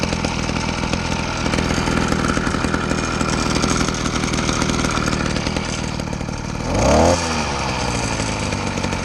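An 80cc motorized bicycle engine with an accelerator problem, a loud close buzzing two-stroke drone that runs steadily, then revs up sharply near the end before settling back.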